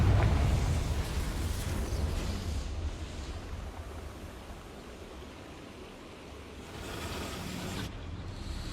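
A Confringo blasting spell goes off in Hogwarts Legacy as a loud, rumbling explosion with a long roaring tail that fades and then swells again, with no voices over it.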